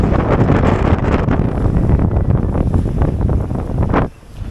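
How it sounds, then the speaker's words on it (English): Strong wind roars steadily across the microphone aboard a sailboat at sea, a loud continuous rush with water noise beneath, easing sharply near the end. "it's forecast to be 0 wind right now, and it's about 20 plus"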